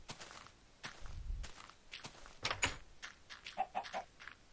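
Minecraft chickens cluck in short bursts amid blocky footsteps and scattered game sounds, faint and intermittent, with the clucks clustered near the end.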